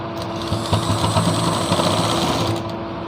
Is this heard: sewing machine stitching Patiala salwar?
yes